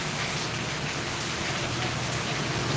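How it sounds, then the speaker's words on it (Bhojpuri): Heavy rain pours down steadily, a dense, loud, unbroken hiss with no voices over it. "देखिए बहुत बारिश हो रही है"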